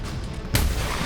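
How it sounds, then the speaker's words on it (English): A single sharp shotgun blast cracks out suddenly after a moment of low background hiss, then leaves a lingering loud rumble. "Brian immediately shoots him with a shotgun."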